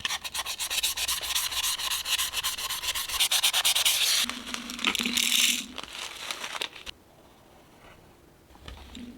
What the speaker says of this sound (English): I'm gonna go around it and just sand the top a little bit to help the glue stick a little bit better.